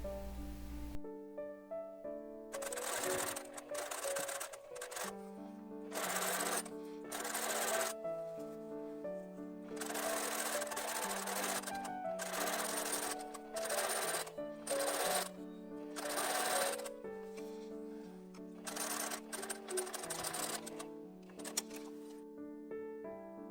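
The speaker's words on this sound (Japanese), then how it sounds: "表側から見てカフスの縫い目に沿ってステッチを入れていきます" A sewing machine stitches along a cuff seam on a tunic dress sleeve in close, repeated runs of whirring, humming motor sound separated by short pauses.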